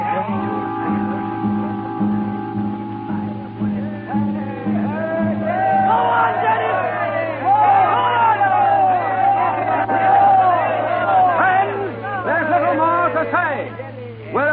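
A crowd gathered for a meeting in a town square in a radio drama shouts and cheers, a few lone voices giving way to a swelling roar of many people, with a steady low hum underneath.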